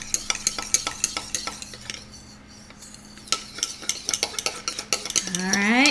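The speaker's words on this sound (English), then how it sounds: "And I'm going to stir." Food coloring drops are stirred inside a lidded container, making rapid rhythmic clicking and scraping strokes that pause briefly midway, then resume before a rising whine at the end.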